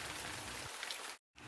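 Steady rainfall from a GarageBand sound effect hisses in a dense, even wash, then cuts to brief silence before resuming.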